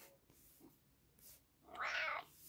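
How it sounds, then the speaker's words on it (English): A pet cat meows indoors, one drawn-out, fairly loud meow after a few soft faint sounds, with no talking over it. "my cat's being very vocal"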